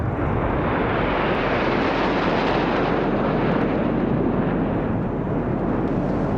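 Indian Air Force jets flying past at about 750 kilometres per hour during a Republic Day flypast, a loud, continuous broadband engine roar that holds steady throughout, with no talking.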